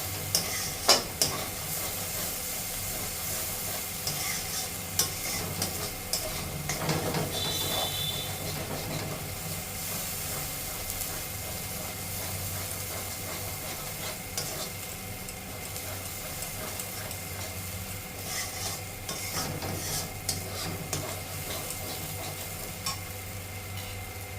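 Spice paste is stirred steadily in a kadai, with a spoon scraping and rustling against the metal pan and a soft sizzle underneath, kept up throughout with occasional sharper clinks and no talking.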